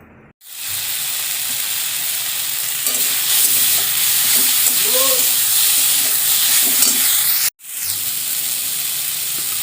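Jute leaves frying in a hot pan, a loud continuous close sizzle and hiss with faint stirring scrapes, cutting off briefly near the end before resuming.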